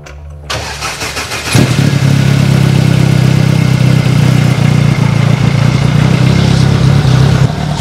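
Freshly built car engine after a two-year preparation, starting up and settling into idle. A brief cranking whirr catches into a loud, close, steady idle rumble that holds to the end, with no talk.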